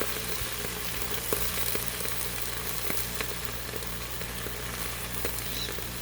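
Continuous crackling sizzle of corn on the cob and peanuts frying on a hot griddle, steady and close, with scattered sharp pops.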